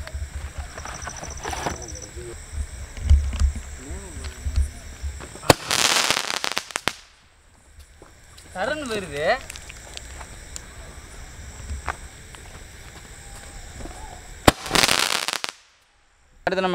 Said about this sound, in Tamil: அடுத்தது வந்து டிஜிட்டல் சொல்லிட்டு ஏதோ கிராக்கர் இருக்கு